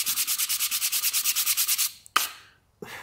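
A wooden trinket-box piece is hand-sanded with a carving block in rapid, even back-and-forth strokes, about seventeen in a row, close and clear. The strokes then stop, followed by a couple of sharp knocks and a brief scrape.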